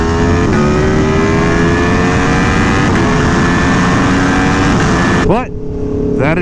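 Aprilia Tuono V4 motorcycle ridden hard on a racetrack, its engine screaming loud and close with steady high revs, then a sharp drop in pitch as it brakes near the end amid heavy wind noise.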